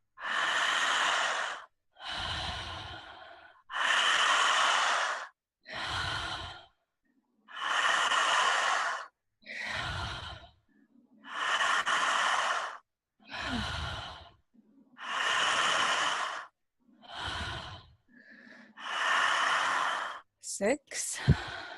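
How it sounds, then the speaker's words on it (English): Slow, deep breathing exercise in a calm guided session: long drawn breaths and audible sighs, about ten of them in a steady rhythm with short pauses between, close and clear. "let's start the breathing"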